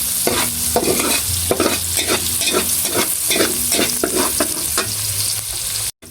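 Garlic frying for chicken menudo, sizzling steadily in a pan while a utensil stirs it in a repeated scraping rhythm, close and fairly loud, with no talk.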